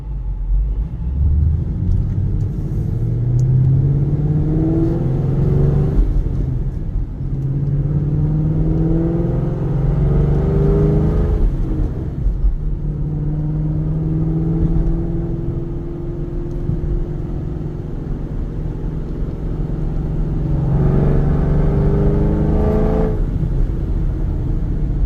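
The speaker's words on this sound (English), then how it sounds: "Exhaust sounds amazing, and you can hear the Procharger a little bit" 2010 Chevrolet Camaro SS with a Procharger supercharger, headers and Corsa exhaust, heard while driving: a deep engine rumble that swells through several acceleration pulls and gear changes, with a faint supercharger whine.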